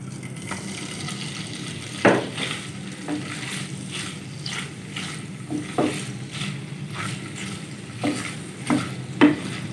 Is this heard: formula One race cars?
no